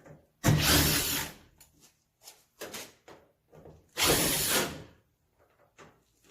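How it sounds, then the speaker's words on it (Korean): Screws are backed out of the top panel of an LG front-loading drum washing machine, heard as two longer loud whirring bursts with several short clicks and ratcheting taps between them. "나사를 풀고요."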